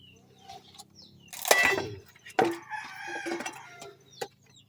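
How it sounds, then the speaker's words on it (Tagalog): A rooster crows twice, loud and close, with a shorter burst followed by a longer drawn-out call. Softer clucks and chicken noises sit between the crows against a quiet background. "Yun, may manok."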